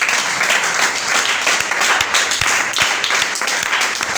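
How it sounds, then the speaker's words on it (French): Church congregation applauding together, steady dense clapping that fills the room at even loudness for several seconds. "Acclamez le Seigneur pour la parole."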